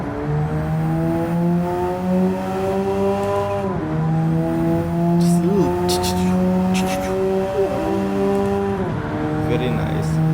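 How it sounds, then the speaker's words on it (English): A Nissan NISMO R34 GT-R Z-tune '05 in Gran Turismo 7 holds a steady turbocharged engine drone that dips on gear shifts, with brief fluttering chirps from the turbo as the throttle lifts, loud and continuous throughout. "The turbo flutter."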